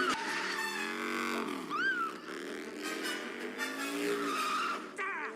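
Motorcycle skidding in an Indiana Jones chase scene, sharp tire squeals sliding up and down over a busy film soundtrack of engines and music, several squeals in a few seconds.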